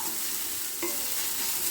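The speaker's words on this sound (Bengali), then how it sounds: "এ দুটোকে একটু ভেজে নিচ্ছি হালকা করে।" Spices lightly frying on a medium gas flame, a steady soft sizzle with one brief stir of a spoon near the middle, close and alone without voices.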